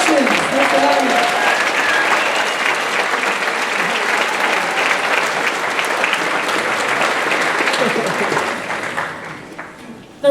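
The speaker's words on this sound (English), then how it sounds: "Let's give one more round of applause" Loud, sustained applause fills a graduation celebration hall after a band's set, dense clapping holding steady before tapering off near the end.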